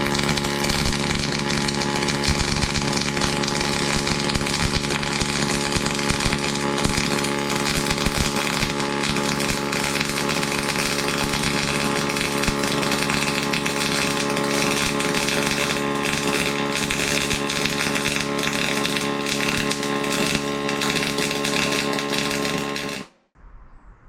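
YesWelder DP200 pulse MIG welder running 035 wire, a loud continuous buzzing crackle that holds steady for over twenty seconds, then cuts off abruptly near the end.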